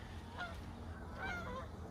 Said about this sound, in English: The geese are back.